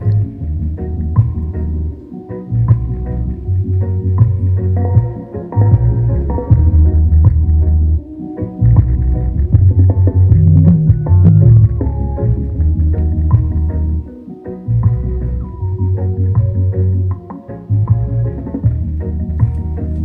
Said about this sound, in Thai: แล้วก็มาเล่นที่วอลลุ่มหลักเสียงซับมาแล้วครับ